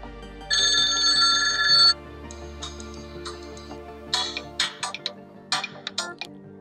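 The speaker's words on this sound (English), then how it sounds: "Here is phone ringtone." A Doro 8100 phone plays ringtone samples: a loud bright ringing burst first, then a series of shorter chimes and tick-like tones in quick, uneven succession, close and clear with no voice.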